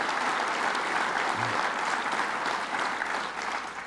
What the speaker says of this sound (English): Give him a big round of applause, Senator Hugh Farley.